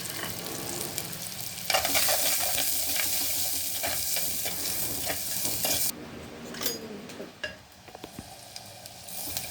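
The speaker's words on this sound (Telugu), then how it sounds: "ఆనియన్స్ కొంచెం వేగాలండి" Onions hiss and crackle as they fry in oil with cumin and mustard seeds, a bright, loud sizzle that drops away partway through, leaving softer frying and occasional stirring knocks.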